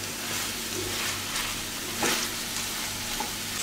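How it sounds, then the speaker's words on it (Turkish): Onions and peppers sauté in a pan with a continuous, even sizzle, close and moderately loud, with a couple of brief stirring clicks and no talking. "Soğan ve biberle bir süre kavuracağım."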